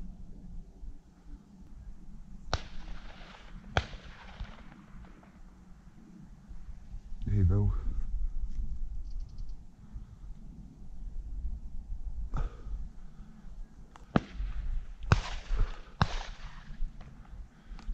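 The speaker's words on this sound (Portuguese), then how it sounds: "O pessoal vai fazendo os tiros" Distant gunshots from hunters during a weekend thrush hunt in the countryside near Lagos and Vila do Bispo, a few sharp isolated bangs spread out over wind noise and a murmur of voices.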